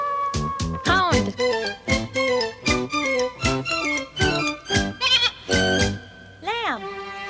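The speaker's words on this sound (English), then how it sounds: "Lamb." Wavering bleats, like a lamb calling, repeat over a bouncy musical backing with steady beats, ending on one drawn-out cry.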